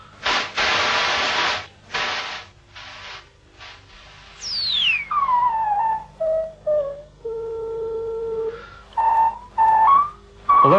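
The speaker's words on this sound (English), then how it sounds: "that's the sort of whistling sound that I want" Filtered white noise on a synthesizer, heard first as bursts of broad hiss, then as pitched whistling tones that sweep down and hold at different pitches, loud and close with short gaps between them.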